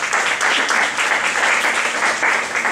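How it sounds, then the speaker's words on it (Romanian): An audience at a vocal contest applauds instructor Ghircoiaș Mihai with loud, dense clapping that runs unbroken through the whole moment and has no talk over it. "Vă rog să-l aplaudați pe domnul Ghircoiaș Mihai"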